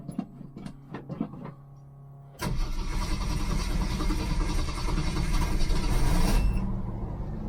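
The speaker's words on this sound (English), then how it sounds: "it sure sounds good for having sat for" A small engine that had sat unused for six to eight weeks in 90-degree heat cranks in a few short bursts, then catches and roars into a loud, steady run, close by and with no talk over it.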